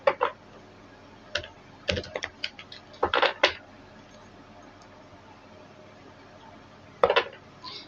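Tarot cards shuffled by hand in a series of short, crisp riffling bursts with quiet gaps between them, close and fairly soft, with no talking.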